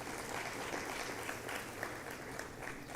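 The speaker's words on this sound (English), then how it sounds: "applause from all of us" Conference audience at an international research conference on insolvency and bankruptcy applauds, a dense, steady wash of many hands clapping at even loudness throughout, with no voices over it.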